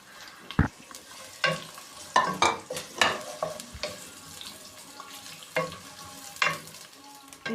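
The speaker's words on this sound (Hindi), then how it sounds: "हम अपनी देगची में आधा कप ऑयल डालेंगे। इसको हमने गरम होने देना है।" Chopped onions hit hot oil in a cooking pot, giving a steady sizzle broken by repeated scraping and stirring knocks from a spoon, close up with no talking.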